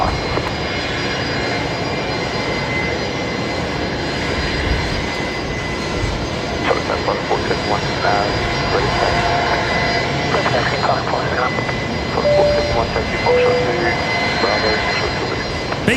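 Fokker airliners and other aircraft run their engines at Brisbane Airport during busy single-runway operations. A steady, loud engine roar fills the whole span without letup, with faint voice-like sounds mixed in.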